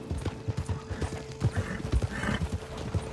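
Horse hooves clip-clop in a quick uneven rhythm while a horse whinnies in the Red Dead Redemption 2 video game, close and fairly loud with no talk.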